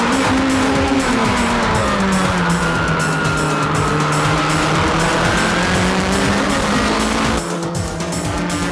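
JGTC GT500 race cars, including an SO Supra and a Motul Pitwork Z, roar loud and continuous with a sustained engine drone that sweeps in pitch, tires squealing through the run and a brief dip near the end.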